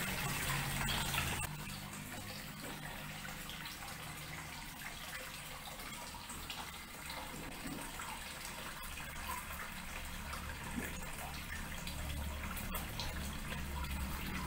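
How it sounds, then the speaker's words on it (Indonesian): Water bubbling and gushing from a venturi-fed bottom drain in an indoor koi pond, a steady close-up wash of churning, aerated water with a brief louder burst at the start. "Oksigen terlarut pada gelembung-gelembung air dari tutup bottom drain yang disuplai dari Venturi injektor telah berjalan cukup baik."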